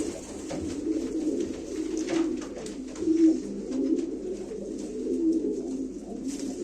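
Pigeons coo repeatedly at a live pigeon auction, soft throaty calls rolling one after another at close range against a low background murmur.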